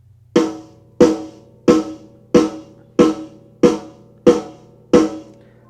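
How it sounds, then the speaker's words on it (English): Eight evenly spaced snare drum hits recorded in GarageBand, each crisp and close with a short decaying ring, separated by brief gaps over a faint low hum. "here's my snare."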